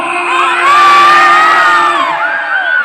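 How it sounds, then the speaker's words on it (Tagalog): A crowd at a lively local gathering shouts and cheers loudly in one sustained burst, with shrill whoops and children's yells rising and falling over the roar. "Wala bang malakas na sigawan dyan!"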